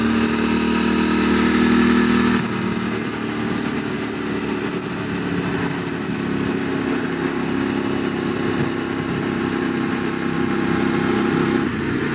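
A QJ SRT 600 SX motorcycle engine hums steadily while climbing a Pyrenees mountain road toward the Tourmalet, a continuous close, mid-pitched drone with a slight shift in tone after a couple of seconds and no talk.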